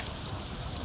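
Steady hiss of rain falling on a surface in Spain, even and continuous with no voices, filling the short moment at a constant level.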